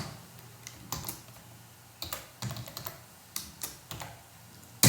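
Clusters of keystrokes on a computer keyboard while a short Python string assignment is entered, in quick bursts separated by pauses, close and fairly quiet, with no talking.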